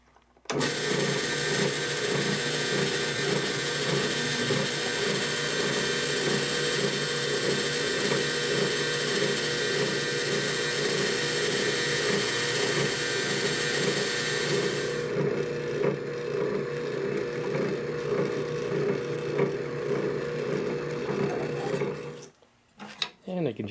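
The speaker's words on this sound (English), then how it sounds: "then I can just drill these more exact" A drill press drilling wooden beehive frames runs steadily with a loud motor whine and grinding bit noise that shifts partway through, then winds down at the end.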